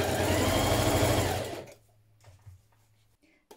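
A sewing machine stitching a dress lining runs steadily at speed for about a second and a half, then stops, leaving a faint low hum and small handling clicks.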